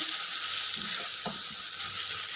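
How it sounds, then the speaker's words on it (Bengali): Onions fry in a pan with a continuous bright sizzle, close and steady throughout, with faint stirring scrapes and knocks underneath. "পেঁয়াজ ভাজতেছি"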